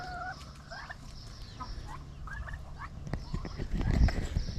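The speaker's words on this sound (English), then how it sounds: "So this is the makeshift chicken coop we got for right now." Chickens in a makeshift farm coop give short, rising clucks and warbling calls, several overlapping birds close by, with scuffling and thumps building toward the end.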